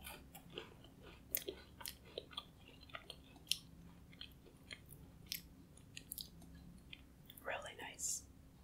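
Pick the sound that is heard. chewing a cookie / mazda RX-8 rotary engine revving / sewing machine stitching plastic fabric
chewing a cookie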